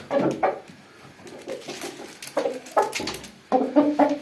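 A rooster clucks in several short, close bursts separated by brief pauses.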